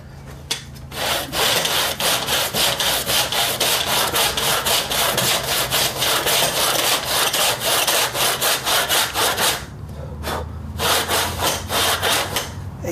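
Hand saw cutting through wood for a mitre joint, a brisk run of rhythmic rasping strokes that continues for several seconds, pauses briefly, then resumes with a few more strokes.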